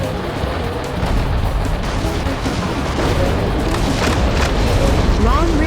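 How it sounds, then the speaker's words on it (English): Dense, continuous booming rumble of missile blasts and explosions from the Metal Wolf Chaos XD video game, thick and loud throughout with layered impacts building slightly toward the end. "The Navy cruiser will fire powerful long-range missiles."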